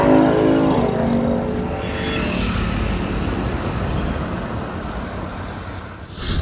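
A motorbike engine revs up loudly nearby and then fades into a continuous drone as the bike pulls away, with a brief rise at the very end.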